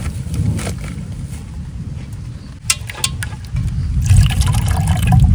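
Cold water pours steadily with a gurgling, splashing rush, broken by a few sharp knocks midway, then swells louder toward the end.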